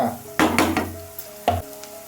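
Ingredients for ragi muddha frying in a pan with a few close stirring scrapes and a soft sizzle in short bursts, quiet between strokes.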